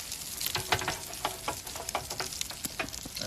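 Matzo brei frying in butter in a pan, a busy crackling sizzle with irregular sharp pops and stirring scrapes, close and fairly loud throughout, no talk.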